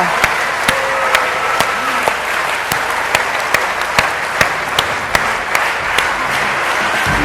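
A large audience at an inspirational evening talk in Indonesia gives dense, sustained applause, loud and steady for several seconds, with occasional sharper claps standing out near the front.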